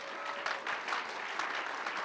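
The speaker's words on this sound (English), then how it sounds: "Let's give them a round of applause." Quiet, distant applause from an audience at the 2017 Steve and Sandi Adams Legacy Hall of Fame induction, a soft, even patter of many hands.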